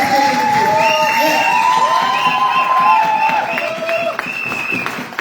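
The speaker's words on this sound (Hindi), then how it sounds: "एक बार जोरदार तालियां सारे" A seminar audience at a direct selling business event breaks into loud, sustained applause mixed with cheers and whoops, a dense wall of clapping that fades slightly toward the end.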